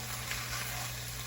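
Potatoes frying in a pan for green chile stew, a steady close sizzle with a constant hiss and no talking.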